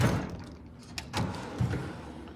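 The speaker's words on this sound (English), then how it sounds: "Get out of this drawer." A drawer of a Craftsman tool chest slides open with a short rolling rumble and a soft thunk, close and fairly quiet, no voices.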